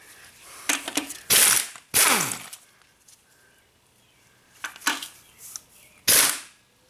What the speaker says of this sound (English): Let's just take these bolts out, see how long they are.